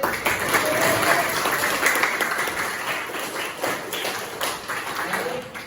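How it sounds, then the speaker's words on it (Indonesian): A classroom of students claps for a classmate, a sustained burst of fairly loud applause that slowly tapers, with some murmured voices mixed in. "boleh kita berikan aplaus untuk Alif."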